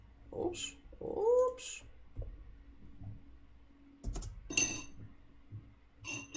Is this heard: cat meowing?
yes